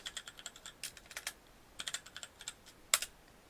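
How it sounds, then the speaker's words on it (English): Keys clatter on a computer keyboard in quick, uneven bursts of sharp clicks, close and fairly quiet, with a short pause in the middle. "Now if you go into idle and you type in import PyAudio"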